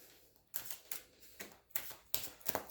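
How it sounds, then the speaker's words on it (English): Tarot cards being shuffled close up, a series of quick riffling bursts in a steady rhythm, with no one speaking. "Let me just shuffle it nice and good."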